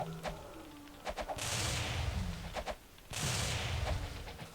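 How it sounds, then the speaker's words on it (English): Explosions boom in the Might and Magic 8 video game, two long, loud blasts following a few sharp cracks, each blast a sustained roar lasting over a second. "The explosions can even launch the dead bodies."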